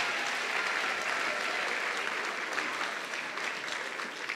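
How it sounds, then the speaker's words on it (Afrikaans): An audience at a jacket ceremony claps continuously, a dense and steady round of applause that holds at even loudness for several seconds. "kom ons klap vir die 8 D's lekker hande"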